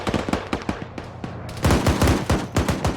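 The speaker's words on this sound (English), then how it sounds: "50 cal firing back" A .50 caliber machine gun fires in a video game: a steady run of heavy, booming shots that swells louder halfway through, with no talking.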